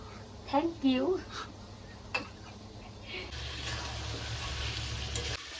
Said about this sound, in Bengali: তো দেখো এদিকে মাংসটাকে কষাচ্ছি খাসির মাংস